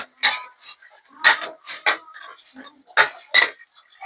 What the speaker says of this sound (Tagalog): Haluin natin mga kaduday